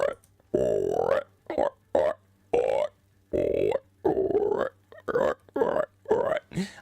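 A person makes belch-like noises with the mouth, a voice imitating a burp: about a dozen short, croaky bursts in quick, uneven succession, close and fairly loud, with no other sound between them.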